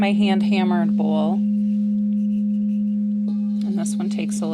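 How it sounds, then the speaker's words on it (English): A hand-hammered singing bowl rings with a steady sustained low hum and a faint high overtone, while people talk over it at the start and again at the end. "This one is my hand hammered bowl."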